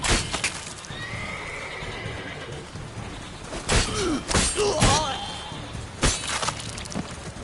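A horse in a PS4 video game gives a loud whinnying neigh amid thudding hoofbeats and a couple of heavy clattering impacts, close and prominent over a steady game background.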